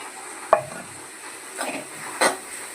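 Spices are stirred into a softened prawn masala base in a pan, with a few separate spatula scrapes and clinks over a quiet, low sizzle and no voices.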